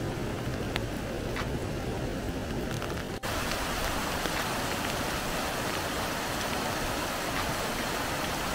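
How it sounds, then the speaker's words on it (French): Steady heavy rain pouring outdoors, a dense, continuous hiss of drops close by that carries on without a break, with no voices over it. "Même pas la pluie."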